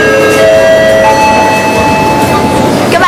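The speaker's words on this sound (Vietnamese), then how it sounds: "ga tàu điện ngầm Kievka." Moscow Metro train at Kievskaya station, producing a loud, continuous rumbling roar with steady electric motor whine tones throughout.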